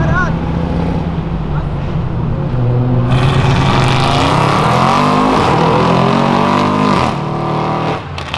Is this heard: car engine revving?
yes